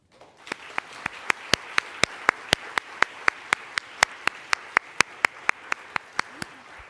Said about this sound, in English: we're going to give a really big round of applause to our panelists